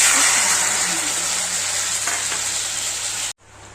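Fresh coconut milk heats in a kadai to render coconut oil, making a loud, steady, close-up frying hiss with faint stirring. The sound cuts out abruptly near the end, and a softer sizzle follows.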